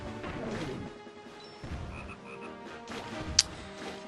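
Frog croaks from the Zelda: Phantom Hourglass video game on Molida Island, a few short repeated calls over game background sounds, with one sharp bright hit near the end.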